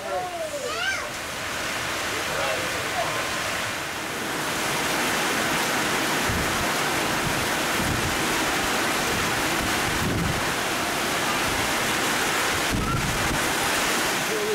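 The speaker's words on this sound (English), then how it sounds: "The wind is blowing really, really hard outside." Strong wind roars steadily against the microphone outdoors in the Great Smoky Mountains, a dense continuous rush with gusts swelling louder partway through.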